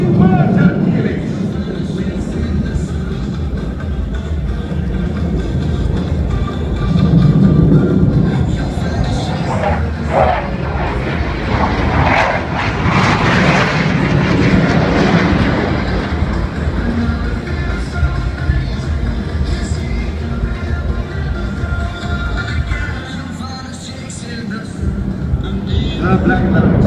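RSAF Black Knights jets performing an inverted helix at the Singapore Airshow 2014: a loud, continuous broadband jet roar that swells and fades, with an announcer talking over it throughout.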